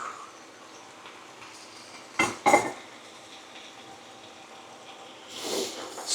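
Pork being stirred back into a hoisin stir-fry in a pan, with a couple of short scraping clatters of utensil against pan amid quiet sizzle, then a softer rustle near the end.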